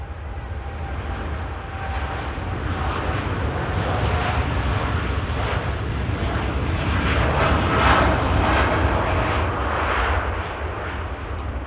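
A Juneyao Boeing 787 Dreamliner departs Manchester Airport for Shanghai, its broad, steady jet roar holding loud and continuous throughout, swelling slightly near the middle with no talk over it.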